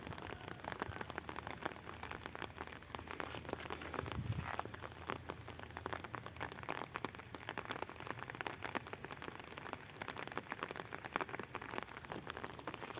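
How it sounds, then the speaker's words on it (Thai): Morning rain patters onto an umbrella outdoors behind a house, a dense, even, close-up spatter of drops that continues without a break. "ตอนนี้ฝนตกนะครับเสียงดังเปาะแปะเปาะแปะเปาะแปะใน"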